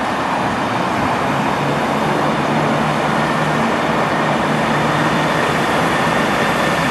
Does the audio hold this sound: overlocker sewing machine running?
no